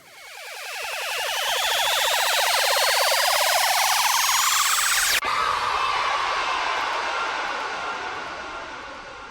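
Five Nights at Freddy's 6 a.m. sound effect set inside a song, a loud rising, siren-like swell that climbs for about five seconds, cuts sharply, then sustains and slowly fades.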